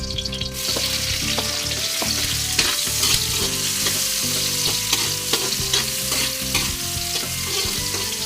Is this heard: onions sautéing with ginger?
yes